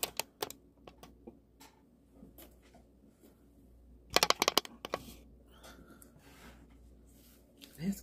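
A knife cuts through a frozen ice cream sandwich dessert, giving scattered crunchy cracks and scrapes that build into a dense burst of crunching midway, with a person's voice in places.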